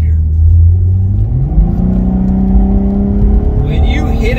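A Cadillac ATS-V accelerates hard, its engine rising in a steady climbing roar from inside the car, loud and continuous, with a voice speaking over the start.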